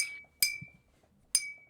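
A glass bottle is smacked twice on a table, each strike a sharp ringing clink that decays slowly, spaced about a second apart.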